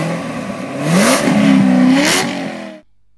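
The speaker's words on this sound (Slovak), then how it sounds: "keď som motor zapol na plné obrátky a s úsmevom som zišiel na trať" A race car engine revs up to full throttle, rising and holding a loud, steady roar for about two seconds before cutting off abruptly into silence.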